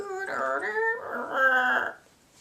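A voice imitates a dial-up modem, warbling and screeching through sliding tones and buzzy chirps for about two seconds before trailing off.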